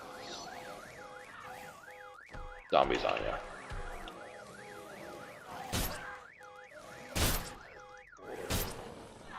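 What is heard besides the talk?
fire alarm going off in Night of the Dead video game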